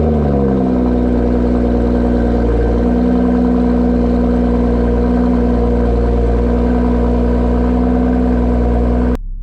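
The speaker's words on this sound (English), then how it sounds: "This is powered by a 3-liter turbo i6 engine with a mild hybrid electric system" A BMW M440i convertible's 3-liter turbocharged inline-six with mild-hybrid assist idles and revs steadily up close, a smooth continuous engine drone with a brief change in pitch early on, cutting off abruptly at the end.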